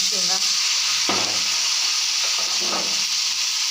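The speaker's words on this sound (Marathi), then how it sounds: "लसूण भाजला, आता यामध्ये हळद, लाल तिखट, मीठ घालते" Garlic frying in a pan with turmeric, red chilli powder and salt, with a loud continuous sizzle up close and a few soft scrapes and clinks of a spoon stirring.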